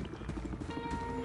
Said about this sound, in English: hell of a chopper! Hell of a chopper!